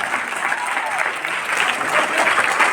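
A workshop crowd keeps up a continuous burst of applause, many hands clapping together at an even level while a few voices murmur underneath.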